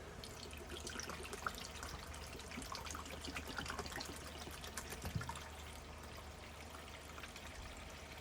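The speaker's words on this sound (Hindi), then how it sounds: "हम यहाँ पर अपना वीडियो बनाने के लिए केवल 1 लीटर पानी फिल कर रहे हैं।" Water pours steadily into the tank of a steam iron with a pump steamer, a continuous close-up splashing trickle of about a litre that runs unbroken with no voices.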